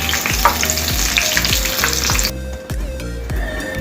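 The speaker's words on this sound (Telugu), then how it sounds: "ఆయిల్లో వేసి ఒక 2 నిమిషాల పాటు వేస్తే మనకి ఫ్రై" Green chillies fry in oil with a loud, close sizzle, while regular low thumps repeat about every half second beneath it; the hiss drops away sharply partway through, leaving the thumping and a quieter crackle.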